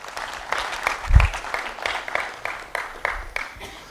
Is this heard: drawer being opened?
no